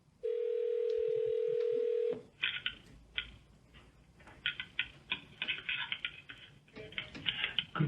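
A steady telephone dial tone holds for about two seconds as someone calls in to a committee meeting, then gives way to a run of quick touch-tone keypad beeps and clicks at close range.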